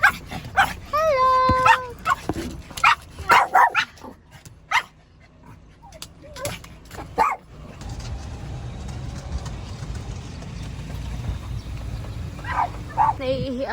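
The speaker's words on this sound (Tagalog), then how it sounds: "Andito guys yung mga aso namin. Naghihintay sila." Household dogs waiting at home, yipping, barking and whimpering in short excited bursts close by, mixed with people talking and some background rustle.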